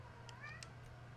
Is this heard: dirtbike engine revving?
no